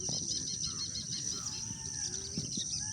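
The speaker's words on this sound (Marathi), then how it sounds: "वेगवेगळे पक्षी त्यांच्या वेगवेगळ्या सुरात गायन गात आहेत." Several birds call and chirp in a forest, fairly faint and distant, with high repeated notes, short whistles and some rustling over a quiet background.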